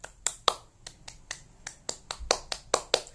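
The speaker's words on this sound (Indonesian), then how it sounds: "Tepuk semangat." Schoolchildren in a classroom clap out a quick rhythmic cheer pattern, with about a dozen crisp, fairly quiet hand claps in uneven groups and no voices.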